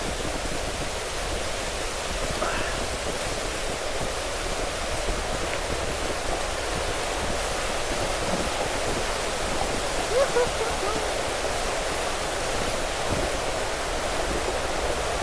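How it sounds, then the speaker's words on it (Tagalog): Basag Falls pours down with a strong river current, a steady, loud, broadband rush of water that continues unbroken from start to finish. "Sobrang lakas ng current ng tubig ng ganyan."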